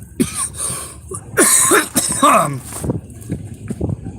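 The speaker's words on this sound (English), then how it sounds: "I'm sorry for coughing to death" Harsh, repeated coughing fits close to the microphone, several bursts in quick succession with throat clearing between them.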